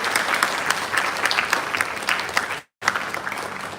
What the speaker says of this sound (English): Please give him a very big round of applause.